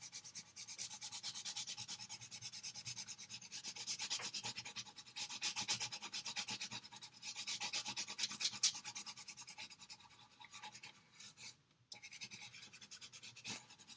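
A crayon is rubbed sideways across paper in repeated, steady scratchy strokes, close and fairly quiet with short pauses between passes and no talking.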